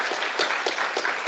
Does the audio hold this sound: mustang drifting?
no